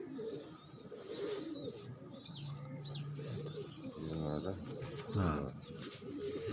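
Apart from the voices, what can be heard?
Khal pigeons cooing in breeding setup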